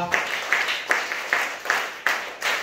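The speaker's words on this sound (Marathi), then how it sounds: "चला टाळ्या वाजवा." Schoolchildren in a village primary school clap their hands together in a steady rhythm of about six or seven claps, each one close and fairly loud.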